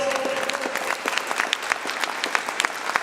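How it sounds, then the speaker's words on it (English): Audience applause at a lecture event honoring a guest, a crowd clapping steadily with scattered sharper individual claps standing out over the steady patter. "Sister Nefertari, could she stand up so we can give her a special round of applause?"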